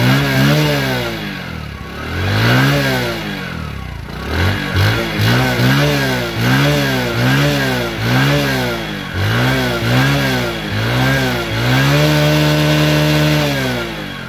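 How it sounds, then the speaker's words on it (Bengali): Single-cylinder engine of a Discover 110cc motorcycle, second hand, revving repeatedly up and down in a loud close rhythm of rising and falling surges over steady idle, no talk. "বাইকের ইঞ্জিন সাউন্ড কিন্তু অনেক ভালো,"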